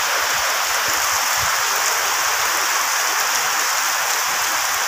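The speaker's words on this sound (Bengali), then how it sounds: "ও যে দেখো একদম সাদা হয়ে গেছে বৃষ্টি।" A downpour of stormy rain roars steadily around a village home, a constant broadband hiss with scattered dull drips and splashes underneath. No talking.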